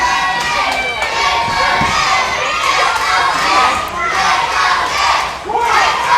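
Wrestling crowd at an indoor match roaring and cheering continuously, a loud, dense wall of shouting voices with chant-like swells throughout, heard up close and without a break.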